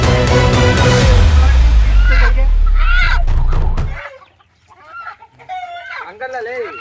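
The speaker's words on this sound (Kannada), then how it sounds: "ಇಷ್ಟೊಂದು ಕಷ್ಟ ಪಡಬೇಕು ಕೋಳಿ ಹಿಡಿಯೋಕ್ಕೆ." Chickens cluck and squawk loudly at a village fair in Boodigere while people try to catch a bird, with crowd noise and excited voices throughout, the clucking strongest in the first four seconds before talk takes over.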